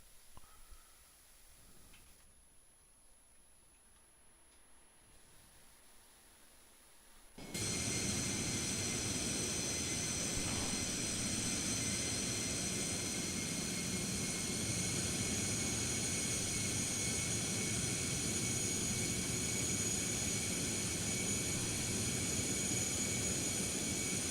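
An Airbus A321neo lands in the X-Plane 12 flight simulator: a quiet opening gives way abruptly to a loud, steady cabin roar of engine and airflow noise with sustained whining tones that continue unbroken to the end.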